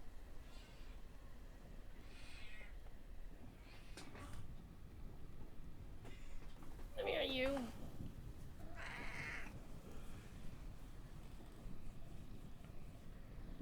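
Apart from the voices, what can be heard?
domestic cat meowing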